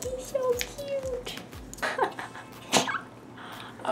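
A small puppy in a home art studio gives soft whimpers and yips with snuffly breathing, a few short close vocal bursts spread across the moment, alone with no talking.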